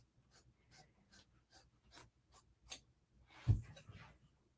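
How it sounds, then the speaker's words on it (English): Scissors snip through quilt batting in a slow, even series of about seven soft, close cuts, followed by a louder handling thump and some rustling. "So I am going to cut my batting."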